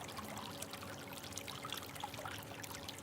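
Faint water trickles and gurgles steadily in a quiet natural setting, a soft continuous patter with scattered small drips and no talking.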